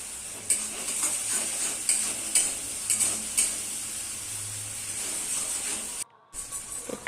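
Poppy seed paste with salt is stirred in a pan for shim posto, a soft steady sizzle with a few sharp utensil scrapes and knocks against the metal, close and moderate, ending in a brief silence.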